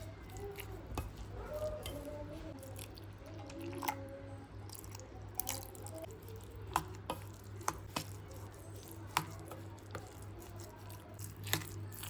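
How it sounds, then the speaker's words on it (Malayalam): Jaggery syrup is poured into a snack mixture and stirred by hand, giving soft, wet squishing and scraping sounds with a few sharper clicks against the pan, close and fairly quiet over a steady background hum. "ഇതിലേക്ക് നമ്മൾ ശർക്കരപ്പാനി ചേർത്ത് കൊടുക്കാം"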